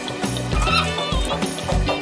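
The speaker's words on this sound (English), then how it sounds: "It's hen." A hen clucks in a run of short, throaty calls repeated several times over a couple of seconds, close and fairly loud, with no voices.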